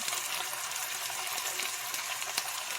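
Beef short ribs sizzle steadily in a hot pan, a constant dense crackle of frying fat with small pops scattered throughout, close and even in level.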